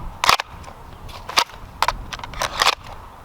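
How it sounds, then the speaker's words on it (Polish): A Glock pistol drawn from and pushed back into a Falcon kydex holster, producing several sharp, loud plastic snaps and clacks in quick succession close to the mic, with no talking over them. "Wyciągamy pistolet, wkładamy pistolet."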